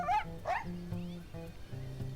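A wolf character in the game WolfQuest gives a fearful snarl as a couple of sharp, whining yelps over a low rumbling growl, fairly close and loud.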